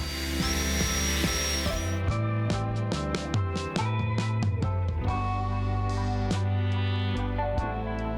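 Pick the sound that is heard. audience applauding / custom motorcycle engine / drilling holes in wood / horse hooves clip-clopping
drilling holes in wood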